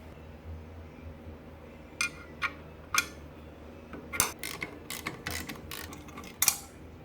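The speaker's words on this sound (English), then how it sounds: "These 4 mounting bolts need to come out." Removing motor mounting bolts on a Harbor Freight band saw brings quiet, sparse metallic ticks and clinks, a few isolated taps followed by a quicker cluster of small clanks from tools and hardware.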